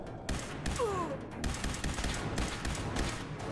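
Laser weapon fire in Fallout 4: rapid, dense bursts of crackling energy shots repeat continuously at close range, with whooshing sweeps and brief gaps, loud throughout.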